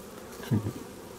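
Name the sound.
honeybees buzzing during hive inspection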